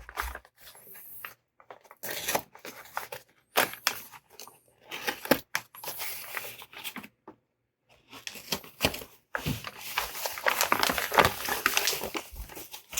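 Paper crinkles and tears close by in irregular bursts as packing material is pulled and unwrapped, with short quiet gaps in between.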